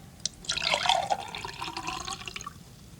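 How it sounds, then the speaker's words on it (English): Water is poured from one glass into a tall, skinny glass, a close, continuous splashing trickle that swells after a moment, then thins into a softer, steady stream before tapering off. "I'm going to take the water from here and pour it into there"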